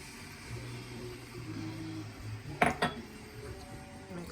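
Metal spoon stirring and clinking against a pot of apple pie filling as lemon juice is mixed in, a couple of sharp clanks over a low steady background hum.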